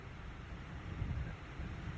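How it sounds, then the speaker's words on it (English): Faint, steady wind rumble brushes against the microphone at a boat launch, swelling slightly in the middle, with no voices. "yeah, it's hella windy"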